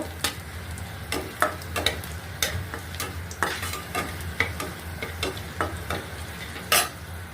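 Dried chilies fry in oil in a frying pan, a steady close sizzle punctuated by repeated sharp crackles and stirring clicks every half second or so, with no voices.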